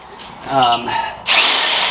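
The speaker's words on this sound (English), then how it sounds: "I'm just using your standard hammer drill" A standard hammer drill with a 3/8 inch bit whirs briefly, then bites loudly into a concrete garage floor for a winch install, with someone speaking just before.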